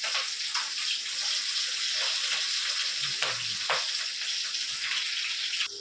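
Mustard seeds sizzle and crackle in hot oil for tomato chutney, a close, steady frying hiss with small pops scattered through it.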